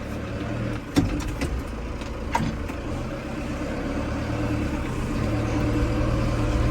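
A Valtra N92 tractor engine runs steadily at a moderate level as the tractor makes a tight turn near a road, with a few brief knocks and rattles early on.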